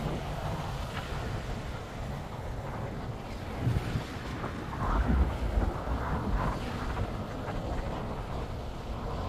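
Cold wind and rain outdoors in Rugby Valley, a continuous broad rushing wash with a few louder gusts buffeting the microphone midway.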